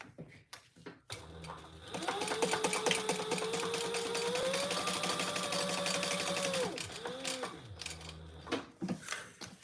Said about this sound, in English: let's top stitch this first